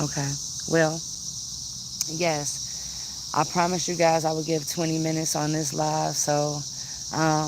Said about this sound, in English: I don't know if you can hear the crickets behind me,